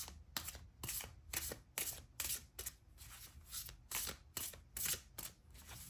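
Tarot cards being shuffled close up in quick, repeated riffling bursts with short gaps between them, soft and alone without speech.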